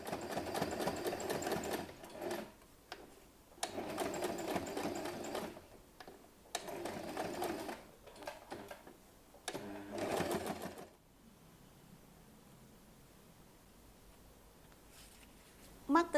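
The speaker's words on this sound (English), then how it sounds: "Top stitch around the edge." Sewing machine topstitching around the edge of a fabric pocket pouch, running in several steady bursts of a few seconds each with short pauses between, then falling quiet near the end.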